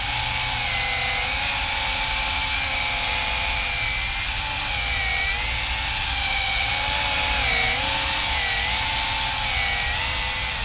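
Wltoys Q919A RC flying tank drone in flight, its small rotors and open gears giving a steady, loud, high-pitched whine with slight wavering pitch as it hovers close by, continuous throughout with no talk.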